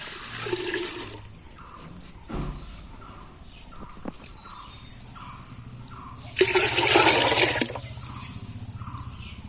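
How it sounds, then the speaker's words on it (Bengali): Water is poured from a tap or vessel into a cooking pot for village-style khichuri, a brief gushing fill near the start and a louder splashing pour later, with quiet background between and faint bird calls. "এর মধ্যে জল দিয়ে দিচ্ছি।"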